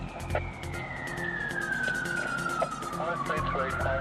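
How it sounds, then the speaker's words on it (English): Emergency vehicle siren wailing loudly and close, a long tone sliding steadily downward before swooping back up. Traffic rumbles underneath it. "In spite of blue flashing lights and wailing sirens"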